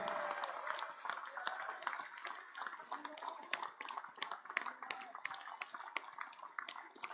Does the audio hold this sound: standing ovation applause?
yes